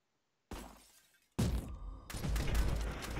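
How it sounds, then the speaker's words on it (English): Glass shatters in the co-op shooter video game RICO, a sudden crisp burst of breaking panes that decays, then a second louder crash with scattering shards and thuds trailing off. "I heard glass breaking"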